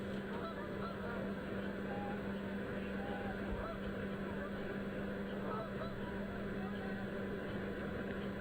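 Geese honk faintly and briefly beside a rowing course at a British junior rowing championship. The calls sit under a steady wash of wind and water noise, with a low motorboat drone running throughout.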